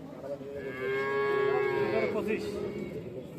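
A single long Holstein Friesian cow moo, close and loud, rising then sustained for a couple of seconds over faint background noise.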